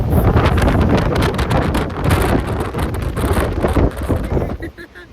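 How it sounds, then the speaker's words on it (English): Strong wind buffets the microphone with loud, continuous roaring gusts. "It's really, really windy."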